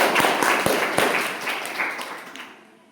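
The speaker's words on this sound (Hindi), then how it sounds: "मनोज सर के लिए एक बार तालियां बजा दीजिए।" An audience claps for a teacher at a coaching institute gathering, a few sharp individual claps at first swelling into a brief round of applause that fades out near the end.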